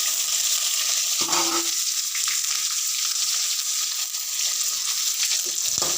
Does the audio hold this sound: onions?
yes